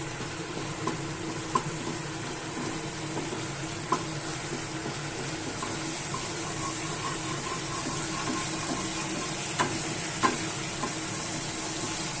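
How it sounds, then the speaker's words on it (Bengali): Dried red chili, bay leaves, whole cumin, cloves and cinnamon frying in hot oil give a steady close sizzle and crackle, with a few sharp pops and light stirring clicks throughout and no voices. "এবার এই তেলটাতেই আমি একটা শুকনো লঙ্কা, দুটো তেজপাতা, একটু গোটা জিরে আর 3টে লবঙ্গ আর একটু দারচিনি"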